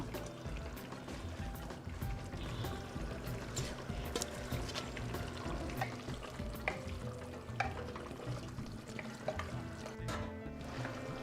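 Saag greens go into a pot of boiling water, giving a faint, steady bubbling and sizzling with light stirring and rustling, no talking.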